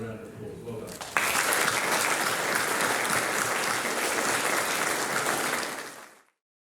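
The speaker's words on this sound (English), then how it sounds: "Boys, another round of applause." A boys' school prize giving audience breaks into loud, dense applause after brief talk, a full wash of clapping that holds steady for several seconds before cutting off sharply.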